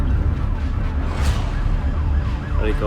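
A Los Angeles police car's wailing siren rises and falls over steady traffic rumble, fairly close and loud throughout.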